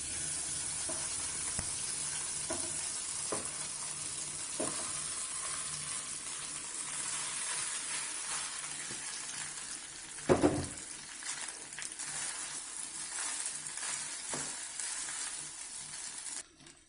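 Keerai upma cooks in a pan over a low flame with a soft, continuous sizzle and gentle hiss, broken by occasional light knocks and one brief louder clatter of stirring partway through.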